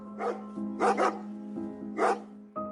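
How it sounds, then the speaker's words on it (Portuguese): Several dogs bark in short, irregular bursts, a few single woofs and a quick double bark, fairly close, over a steady low droning tone. "o som dos latidos dos cachorros estava cada vez mais se aproximando"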